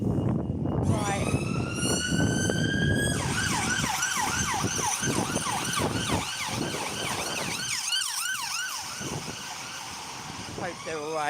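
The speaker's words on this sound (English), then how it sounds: "Right, I love a siren." A London emergency-vehicle siren wails loudly, rising and then cycling through rapid up-and-down sweeps, with street traffic rumbling beneath and a voice talking over it.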